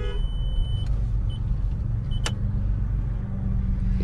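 A car drives out of a parking area outside a shop, giving a low, steady engine rumble with faint road noise throughout and no talking.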